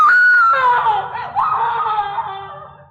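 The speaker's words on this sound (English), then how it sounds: "And I heard her screaming." A woman's high, wavering scream in a classic 1950s–60s radio mystery drama, loud and close, sliding downward and breaking into gasping, laugh-like sobs over about three seconds.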